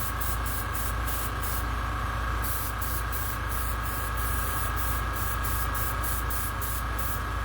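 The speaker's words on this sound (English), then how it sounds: "I'll do a far-away spray on the skin just to add more color to blend in with the skin tones" Paint hisses from a spray gun in a continuous steady stream onto a latex Jason Voorhees mask, close and loud, with a fast rhythmic pulsing flutter and an underlying hum, and no talking.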